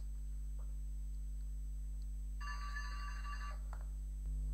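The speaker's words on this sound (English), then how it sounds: "We'll just set a 3-second timer there." A Joggler device sounds a timer alarm as a brief electronic ringing burst lasting about a second and a half, faint and thin over a steady electrical hum, with quiet gaps before and after.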